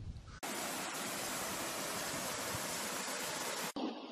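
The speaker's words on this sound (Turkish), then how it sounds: "Çamlık Şelalesi'ndeyiz." Çamlık waterfall, dropping about 20 metres, sends a steady, dense roar of falling water that starts abruptly and holds constant before cutting off, with nothing else audible.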